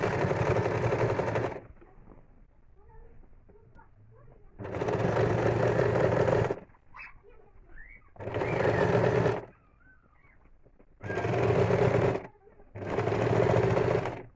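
Sewing machine stitching binding tape onto a quilted seat cushion, running in four or five loud bursts of steady rapid whirring separated by quiet pauses while the fabric is turned.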